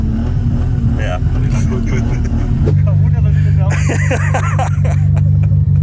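A BMW E34 M5 engine drones steadily while the car is driven through snow, with a brief shift in pitch partway through, the engine running loud and continuous beneath someone talking.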